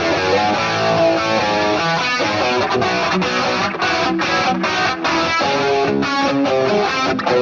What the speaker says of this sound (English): Here we have the Brit 800 amp, and it sounds like this.